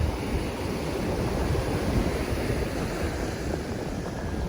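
Ocean surf at Miami Beach at sunrise, a steady broadband wash of breaking waves mixed with wind buffeting the microphone, continuous and fairly close with no voices.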